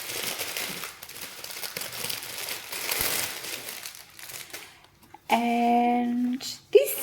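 Plastic packaging from a Temu order crinkles and rustles as it is opened a little away from the microphone, fairly faint and irregular, followed by a short burst of louder tonal noise.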